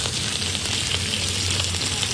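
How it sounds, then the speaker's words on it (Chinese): Fish sizzles and fries steadily in a hot five-layer steel pan after being turned to cook the second side, a dense, even crackle that stays loud and close throughout with no talking. "我们反身再煎4分钟"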